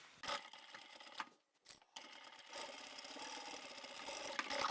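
Sewing machine stitching down the long edges of a zippered pyramid pouch, a quiet close whirring mechanical run with a brief pause before stitching resumes steadily.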